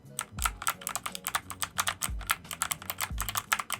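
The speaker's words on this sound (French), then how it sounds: "c'est surtout le bruit et la sensation des touches mécaniques que j'ai tout particulièrement apprécié sur ce clavier" Typing on an MSI mechanical gaming keyboard, close and crisp, with rapid irregular clacking keystrokes and a few deeper thuds from heavier keys such as the space bar, alone without talk.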